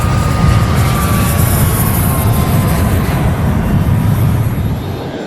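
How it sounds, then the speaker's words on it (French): An ex-Canadian Air Force Jet Provost jet aircraft runs loud and close, its engine a steady roaring rumble with a high whine on top, holding level throughout. "On voit ici un jet Provost provenant des stocks de l'armée de l'air canadienne"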